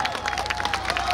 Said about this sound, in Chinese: 也要祝福今天特别再度请大家用热情掌声送给秋娱乐